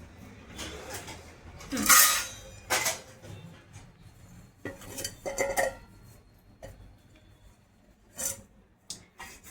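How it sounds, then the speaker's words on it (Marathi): A pot lid and dishes are handled in a home kitchen, giving scattered clinks, knocks and rubbing sounds, one louder clatter early on, among quiet background noise. "झाकण घेणार आहोत आपण इथून."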